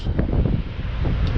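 Wind gusting past a truck parked outdoors on the road in Texas, a steady low roar with buffeting rumble and faint flutter, loud and close with no one speaking.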